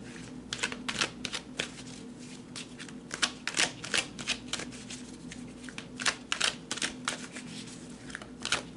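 Tarot cards being shuffled: a run of crisp, irregular riffling flicks and papery slaps, close and fairly quiet, with no voices over the shuffling.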